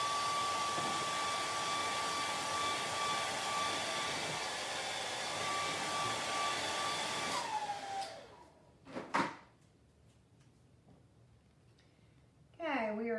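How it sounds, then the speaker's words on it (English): A hair dryer blows with a steady whooshing hum for several seconds, then switches off, followed by a few clunks and a voice starting to speak. "Actually, I'm probably gonna need my blow dryer really quick."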